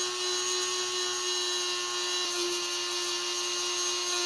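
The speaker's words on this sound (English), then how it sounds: "Adjust the router bit slightly deeper than the case and make the first pass." A router bit cuts into a Spigen phone case for a Samsung S25, giving a loud, steady high-pitched motor whine with a constant tone and no pauses.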